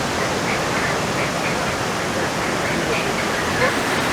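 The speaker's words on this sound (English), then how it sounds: "Probably tons and tons of water running through here with massive amount of power." Powerful waterfalls at Krka National Park in Croatia send a steady, broadband roar of rushing water, continuous and fairly loud with no pauses.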